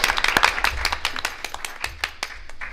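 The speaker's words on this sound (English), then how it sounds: "let's give her a round of applause" A school board meeting audience claps for a high school senior being recognized, a dense, steady patter of many hands filling the room for a few seconds, with a faint voice underneath.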